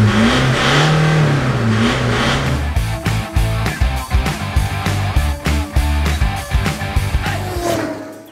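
A car with a 3-inch stainless steel free-flow exhaust and chambered muffler revs loudly, first a sustained drone, then a run of sharp repeated throttle blips with crackling gaps before settling into a falling idle.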